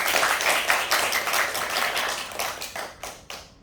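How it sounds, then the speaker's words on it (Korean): Applause from the audience at a Korean community lecture by an invited author, dense and steady clapping that thins out toward the end into a few scattered claps. "박수 한번 보내주십시오."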